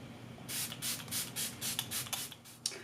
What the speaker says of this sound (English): So I'm going to spray this all over my face.